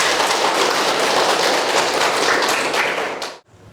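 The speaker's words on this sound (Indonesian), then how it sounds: "kasih aplaus untuk kita semua ya" Classroom audience clapping together in dense, steady applause that fills the room for a few seconds, then cuts off abruptly into near silence.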